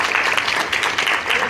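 Audience applause after a film presentation, a dense, steady wash of clapping from a crowd indoors, brief and fairly loud.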